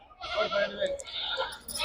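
Goats bleat in wavering cries amid a busy crowd at the weekly livestock market in Nandigama, with voices talking and livestock calling close by.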